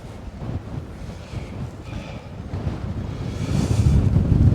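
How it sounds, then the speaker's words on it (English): Strong wind buffets and roars against the microphone outdoors beside a pitched backpacking tent, a continuous low rumble that grows louder toward the end. "I say this is quite a windy day today as well"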